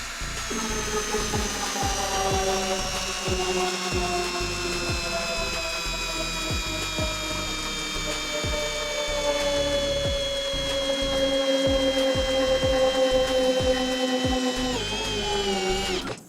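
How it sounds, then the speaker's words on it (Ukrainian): A Dnipro-M CD-200BC compact cordless drill drives large lag screws, its motor whining steadily and loudly with rapid ratcheting clatter throughout, pitch sagging slightly under load before stopping near the end. "Буду закручувати ось такі шурупи."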